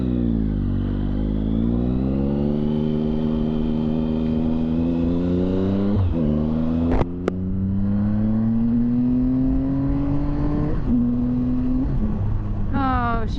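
A Triumph Speed Triple motorcycle engine under way while riding, its steady tone rising with acceleration and shifting at gear changes, loud and close throughout.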